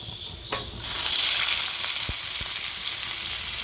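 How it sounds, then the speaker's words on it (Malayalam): Sliced onions dropped into hot oil for a chicken curry burst into a loud, steady sizzle that holds to the end, with a couple of soft stirring knocks along the way. "നമുക്ക് വലിയ ഉള്ളി ഇട്ട് കൊടുക്കാം"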